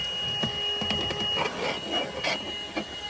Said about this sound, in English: Give it a nice little hoover.